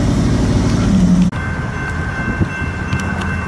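A loaded BNSF coal train rolls eastbound past Hobson Yard, a steady loud rumble of rail cars with a sharp clank partway through and a faint high squeal above the continuous roar.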